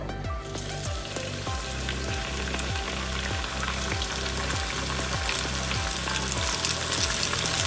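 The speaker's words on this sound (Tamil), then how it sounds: "நான் எடுத்து வச்சிருக்க உருண்டையை எண்ணெயில் சேர்த்துக்கிறேன்." Steady, dense sizzling of noodle pakora dough balls deep-frying in hot oil, a continuous crackling hiss with a regular underlying pulse, close and fairly loud.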